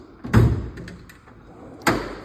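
Metal drawer in a garage tool chest sliding open and shut, two solid thumping clunks about a second and a half apart with light rattling between, close and with no talking.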